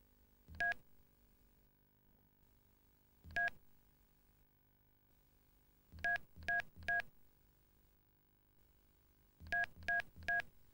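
Mobile phone keypad tones from a 1993 Optus handset while a phone number is keyed in: short clean beeps, one, another, then groups of three, fairly quiet and alone without talk.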